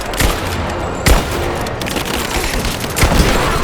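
Gunfire in the video game Rise of the Tomb Raider: continuous loud bursts of shots under dense battle noise, with sharp cracks standing out near the start, middle and end.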